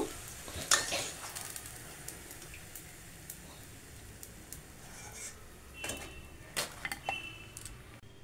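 Chole bhature frying in hot oil, a soft steady sizzle running throughout with a few sharp utensil clinks and scrapes, no voices.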